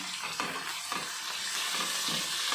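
Chopped tomato and salt sizzle and fry in a hot pan while being stirred, a steady bright crackle with soft scraping strokes of the spoon recurring throughout, close and continuous with no talk.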